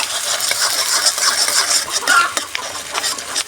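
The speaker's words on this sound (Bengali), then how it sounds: "নাড়াচাড়া করছি।" Onions being stirred while frying in mustard oil in a pan, a steady hiss of sizzling with scraping and clinking of the spoon close by, no talking.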